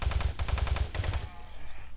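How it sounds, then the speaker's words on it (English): Chain gun firing in the Doom 3 video game, a loud rapid burst of evenly spaced shots for about a second, then a fading tail of echo and mechanical noise. "Yeah, I'm gonna use a chain gun."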